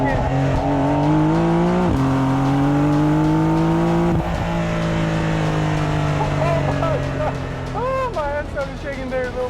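A Porsche 911 Carrera S engine pulls hard with a rising whine, drops pitch sharply on a downshift, then climbs again, loud and close inside the car while someone talks over it.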